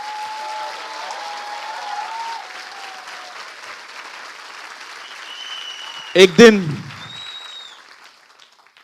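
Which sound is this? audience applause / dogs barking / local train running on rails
audience applause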